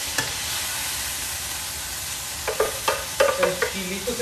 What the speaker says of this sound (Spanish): Vamos a menear.